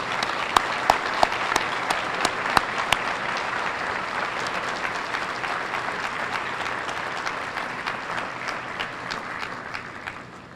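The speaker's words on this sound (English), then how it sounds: "let's have a round of applause for this year's sophomores" Audience at a high school academic awards ceremony applauds for honored sophomores, a broad sustained round of clapping with a few sharper nearby claps early on, fading slightly toward the end.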